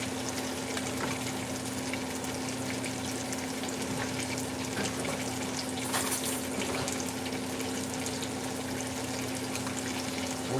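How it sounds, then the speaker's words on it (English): Instant mashed potato flakes poured into hot water, a continuous soft hissing, rustling pour with a steady background hum, fairly quiet and without talk. "Pour my instant mashed potatoes in my hot water."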